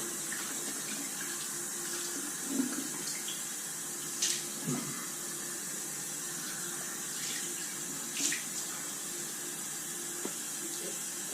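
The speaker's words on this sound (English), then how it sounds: "And then rinse off with some cold water." Cold tap water runs steadily into a sink for a rinse after a straight razor shave, a constant hiss with a few faint splashes and clinks, no talking.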